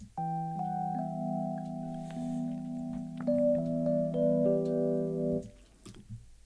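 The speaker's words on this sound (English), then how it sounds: "And classic vibe sounds like this." Classic Vibe electric piano patch from Native Instruments Electric Keys Phoenix, playing sustained chords with stacked tine tones, slightly panned for width, changing chord shapes several times before releasing and fading near the end.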